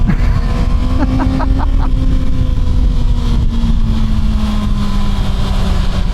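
A Kawasaki ZX6R 636 sport motorcycle being ridden holds a loud, steady engine drone with constant wind rush, and a few quick tonal blips come near the start.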